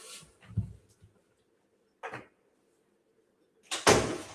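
A door being shut in a home office: a few soft knocks and handling sounds, a brief clack, then a firmer closing thud at the end, heard close in an otherwise quiet room.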